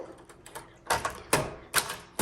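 A few sharp, separate clacks of a 1941 Corona Standard manual typewriter, close and irregular, with quiet gaps between strikes.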